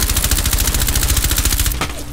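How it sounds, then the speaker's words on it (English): Rapid loud bursts of automatic gunfire in the Rainbow Six Siege video game, a steady fast rattle of shots that stops abruptly near the end, followed by a single sharper crack. "someone's trying to shoot me from the other side"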